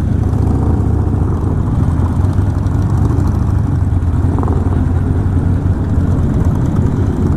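Harley-Davidson Sportster motorcycle engines rumbling at Donington Park circuit during a mass ride of over six hundred bikes, a steady loud low drone of many engines with no break.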